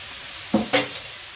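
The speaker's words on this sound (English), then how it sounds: "just chop up some garlic and chop up some ginger and put in your skillet" Chopped garlic and ginger dropped into a hot skillet, two quick close sizzling bursts a moment apart with stirring, each flaring loud then settling to a faint hiss.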